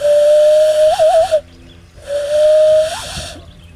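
A loon call imitated by blowing through cupped hands gives two sustained, loud whistling tones, each with a wavering warble, separated by a short pause and heard alone up close.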